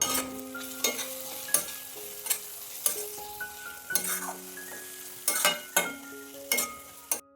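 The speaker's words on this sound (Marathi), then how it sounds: "हे छान आता हलवून झालं आहे" Onion and tomato softened in oil with half a spoon of turmeric, frying at a low sizzle in a pan while a spoon stirs, with sharp scrapes and clacks at a steady pace over a faint hiss and soft background music.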